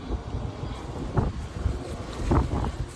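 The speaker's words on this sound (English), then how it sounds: "this wind is something else, I cannot tell you" Strong wind gusting through a garden with tomato and cucumber plants, a constant roaring rumble buffeting the microphone, swelling in bursts, with no voices.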